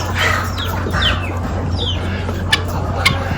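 Guinea fowl at a stockyard sale give a few chattering, clucking calls over a steady low crowd and barn hum, with a couple of short sharp clicks near the end.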